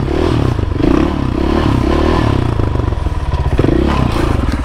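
A motorcycle engine drones loud and close, steady and throbbing with clattering and scraping, while the rider holds a wheelie through a McDonald's drive-thru.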